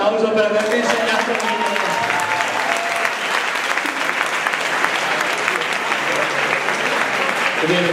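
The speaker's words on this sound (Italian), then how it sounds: "Facciamoci un applauso per avermi insegnato." Loud, sustained applause from an audience at a talk on relationships with adults, dense clapping filling the whole stretch with a murmur of voices underneath.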